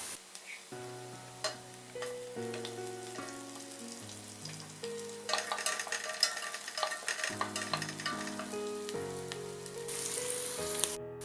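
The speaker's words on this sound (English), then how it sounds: "Stir the onion well. Add the split green chilies now." Onion and split green chilies frying in a pan while being stirred, a close sizzle with scraping under a soft melodic background tune that changes notes every second or so, without speech.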